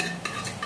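Cooked mutton being added to a simmering biryani masala in a pot, with soft stirring and scraping of a utensil and gentle bubbling, a few brief clinks close by.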